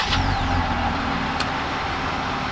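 A 2020 Jeep Gladiator pickup engine, remote-started, idling steadily with a low rumbling drone, close and continuous, with a faint short whine near the start.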